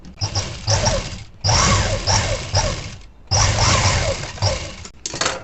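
Sewing machine stitching the lining of a blouse a quarter inch in: two long bursts of fast mechanical clatter, close and steady, separated by brief pauses, with a short start at the end.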